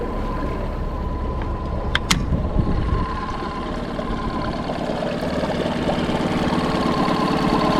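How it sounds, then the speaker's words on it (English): The outboard engine of a restored fishing boat idling in neutral, running slightly rough with a steady close chug and hum, one brief sharp clank early on, and no talk over it. "it's not idling in neutral the best it should"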